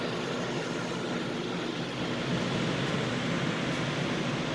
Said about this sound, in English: that's powering my switch and my fans inside the tent, my exhaust fans, intake fans.